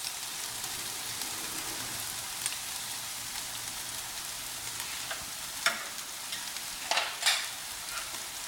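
Mutton brain masala frying in a pan, a soft steady sizzle with occasional scraping stirs and clinks of a spoon, fairly quiet throughout.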